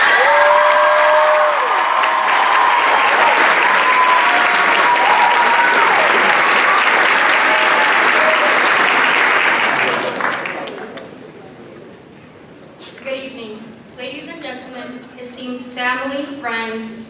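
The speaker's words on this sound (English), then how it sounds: "Please join me as we applaud the exceptional accomplishments of our valedictorian" A commencement crowd applauds the valedictorian at a Class of 2025 graduation ceremony, with loud sustained clapping and cheers for about ten seconds, then fading as a speaker begins talking over the hall.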